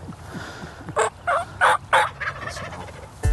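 Wild turkey gobblers gobbling outdoors, several loud rattling gobbles in quick succession close by, one overlapping another, over quiet background noise.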